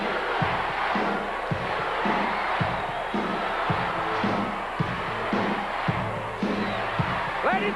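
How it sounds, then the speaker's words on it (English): Wrestling arena crowd chanting in a strong repeated rhythm, loud and roomy, with whoops and cheers rising around each beat and no talk over it. "Listen to this crowd. Listen to this chant."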